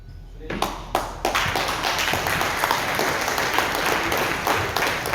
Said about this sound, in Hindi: इसके लिए जोरदार तालियां होनी चाहिए